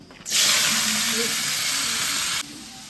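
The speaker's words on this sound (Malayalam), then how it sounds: "ഇപ്പൊ മുട്ടക്കറിക്ക് ഉള്ളി വാട്ടാൻ പോവാണ്" Onions for egg curry hit a hot pan and burst into a loud, close, hissing sizzle that holds steady for about two seconds, then cuts off abruptly into quieter background.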